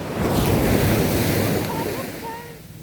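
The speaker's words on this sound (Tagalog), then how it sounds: "Kusog ang balod." Strong ocean waves crash and roar close by with gusting wind noise, the surge fading toward the end as a faint tone rises.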